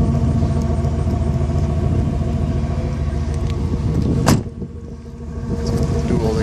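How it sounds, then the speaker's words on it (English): A 2006 Chevrolet Monte Carlo SS with a 5.3 small-block V-8 and dual exhaust idles after a remote start, a steady low rumble close by that dips briefly near the end. "Remote starts, got a nice little rumble to it."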